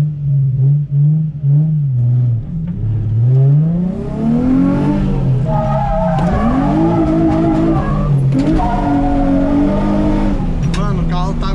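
A Nissan 350Z drifts with its engine revving hard in rising and falling sweeps, while tires skid and squeal continuously through most of the run, loud and close.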